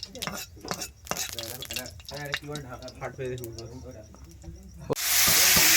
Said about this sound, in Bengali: রাজুদা চাটনি রান্না করছেন, ফোড়ন দিয়ে দিয়েছেন